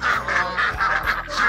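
Swan geese on a Vietnamese farm honk in a steady run of repeated loud, nasal calls, several overlapping birds close by, with no talking.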